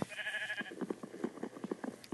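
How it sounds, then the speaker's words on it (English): A sheep in the video game Minecraft gives a short bleat, followed by a run of faint, quick tapping sounds, all quiet. "I hear the sheep."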